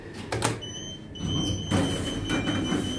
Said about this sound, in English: These doors go back down to G.